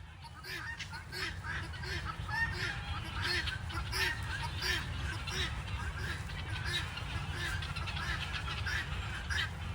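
Geese honk repeatedly and fairly close in a steady, overlapping chorus outdoors, with a voice speaking now and then underneath.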